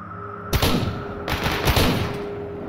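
Rapid bursts of gunfire in a zombie shooter video game, with sharp repeated shots in two clusters over a steady background hum, loud and close, with no talking.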